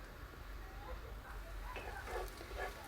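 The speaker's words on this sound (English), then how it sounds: "So I am frying it on a medium heat here" Beef fried rice ingredients frying in a pot on medium heat: soft sizzling and frying with faint stirring scrapes, quiet and close, steady throughout.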